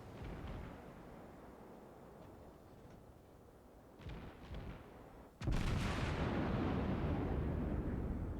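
A warship in a naval combat game fires a full salvo of its big guns: a few distant booms and rumbling first, then a sudden heavy, sustained blast of gunfire that roars on loudly to the end.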